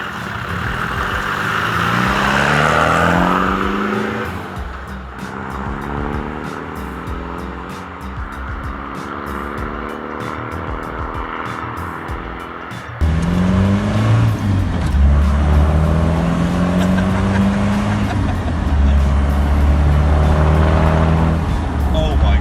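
A Defender's engine revving loudly through a Demand exhaust with a straight-through pipe, rough exhaust note rising and falling, then surging louder and deeper midway as the car pulls away.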